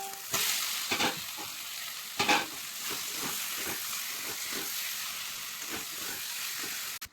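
Chicken frying in spiced oil for a curry, making a close, steady sizzle broken by repeated stirring scrapes and a couple of louder knocks of the spoon against the pan.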